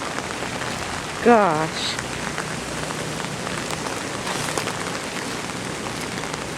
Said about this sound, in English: Still raining and everything.